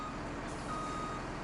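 Reversing beeps from a pickup truck in the farming video game Farming Simulator 17, a steady electronic warning tone over a constant engine drone, with no talking.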